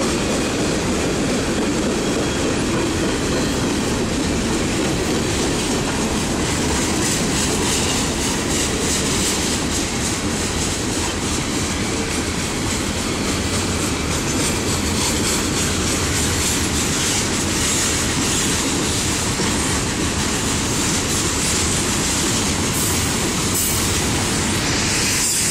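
Union Pacific 7379 freight train passing through Effingham, Illinois, a loud, continuous rumble and roar of railcars rolling by with rhythmic wheel clatter and occasional squealing, sustained close by for the whole stretch.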